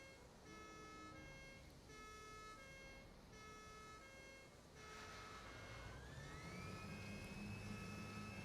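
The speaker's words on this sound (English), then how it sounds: "have you found the siren on your cart?" Siren sounding from a cart in an upgrade-focused video game, steady wailing tones that hold and then sweep upward near the end over a constant droning background.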